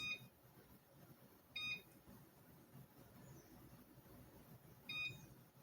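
A kitchen timer being set gives a few short, quiet electronic beeps, spaced well apart over a low background hiss.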